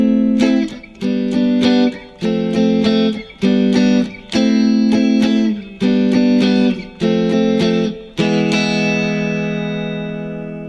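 An electric guitar plays the second pre-chorus of a song as loud, rhythmic chord stabs with short gaps, ending on a long ringing chord that fades out.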